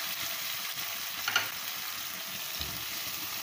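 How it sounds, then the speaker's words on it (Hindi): Tomato and garlic frying in a pan for chana chaat, cooked down to a paste; a quiet, steady sizzle with a brief stirring scrape midway and a soft knock near the end. "अब हमें बहुत अच्छे से भूनना है ताकि इसका बिल्कुल पेस्ट टाइप बन जाए"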